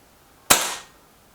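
A single crisp shot from a Reximex Accura Walnut air rifle, a sudden close snap with a short bright tail that fades within about half a second, otherwise quiet.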